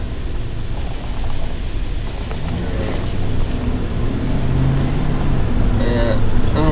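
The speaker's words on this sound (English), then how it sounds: "that's pretty loud for a van" A van drives past on a farm road with a loud, rising engine roar building steadily to a near, strong peak, ending with a higher tonal whine.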